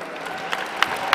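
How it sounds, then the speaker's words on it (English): Brief applause from an awards ceremony audience for lifetime achievement nominees, a steady patter of clapping with a few sharper, louder claps standing out. "A huge round of applause to all our nominees."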